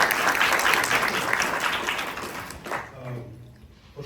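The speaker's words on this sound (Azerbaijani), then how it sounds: "Alqışlarla başlayalım" An audience at a bloggers' forum bursts into applause, dense clapping holding steady and loud before thinning and fading out toward the end.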